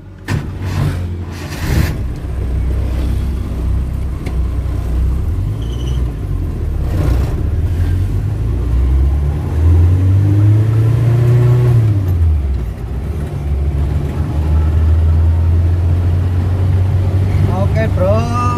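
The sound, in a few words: Suzuki Carry car driving on road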